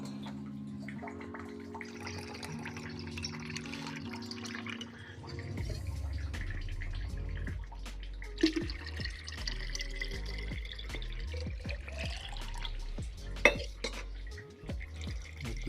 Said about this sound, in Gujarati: પાણીનો ગંભો ભરાઈ ગયો